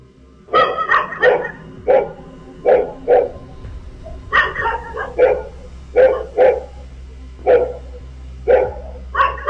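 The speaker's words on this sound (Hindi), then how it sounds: "यहां सड़क पर चलते इस शख्स को देखकर कुत्ते भौंक रहे थे," Dogs bark at night on a street, sharp repeated barks coming in uneven bursts, some in quick doubles, close and loud over a low steady hum.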